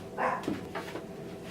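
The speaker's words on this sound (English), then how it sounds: "I have no idea what he's barking at" A dog gives two or three sharp barks close by, a short burst of loud yaps followed by a quieter one, with no talking over them.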